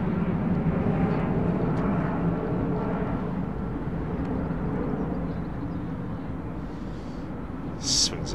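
A Malaysia Airlines Airbus A350 taxiing at London Heathrow gives a steady, moderately distant jet-engine rumble and whine that fades slightly over several seconds, with a brief sharp noise near the end.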